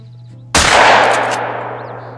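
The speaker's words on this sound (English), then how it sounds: "I think I can make a pretty decent shot from here." A single hunting rifle shot fires in a hunting video game, a sharp loud crack followed by a long rolling echo that slowly fades across mountain terrain.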